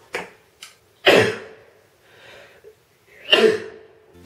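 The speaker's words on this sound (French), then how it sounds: "je vais éternuer dans pas longtemps" A sneeze bursts out during makeup application with Benefit Hoola bronzer, a sharp gasp-like intake followed by a loud nasal burst near the mic, then a second close burst a couple of seconds later, with soft breathing between.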